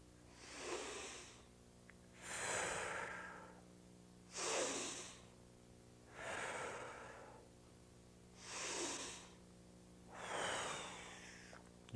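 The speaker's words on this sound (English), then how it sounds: "Lying on the floor, I can also exaggerate the diaphragmatic breathing." A saxophone teacher lying on the floor takes slow, exaggerated diaphragmatic breaths, six deep hissing inhales and exhales in a steady rhythm, close and soft with no talking.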